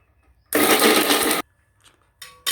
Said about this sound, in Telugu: మిక్సీ చేస్తున్నానండి